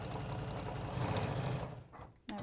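Sewing machine stitching close along a fabric edge while making a tooth fairy cushion, a steady close whirring hum that drops away near the end, followed by a brief clunk.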